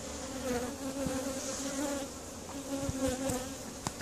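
Honeybees buzz close up inside the hive as the queen and her workers tear down a royal cell. The hum is steady and fairly quiet, with faint clicks and shifts in the drone.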